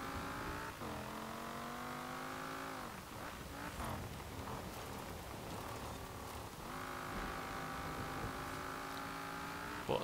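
A 2012 Cadillac Escalade ESV engine in the video game Forza Horizon revs and accelerates loudly through rising gear pulls, dips briefly around a shift near the middle, then climbs again, with no talking.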